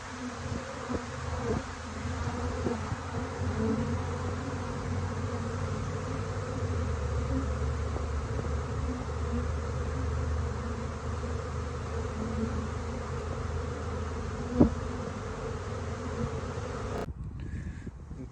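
Honey bees bearding on the outside of a hive box give a steady, dense buzzing hum throughout, close and continuous with little variation, without any talking.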